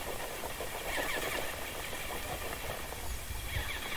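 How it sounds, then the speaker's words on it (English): A steady grinding, buzzing drone of small 1.9-inch RC crawler tyres and motor working against an obstacle, continuous and fairly close, with no voices. "it's the tyre noise"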